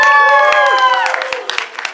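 An audience at a Ghost in the Shell 2017 movie premiere fan event cosplay competition cheers and applauds for a cosplayer, with loud whoops and scattered claps that fade into sparser clapping.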